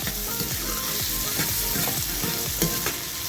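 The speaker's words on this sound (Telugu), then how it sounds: "దీన్ని ఫ్రై చేసుకుందాం." Sliced onions with cumin frying in oil on a tawa, a continuous close sizzle broken by quick repeated stirring scrapes, with no voices.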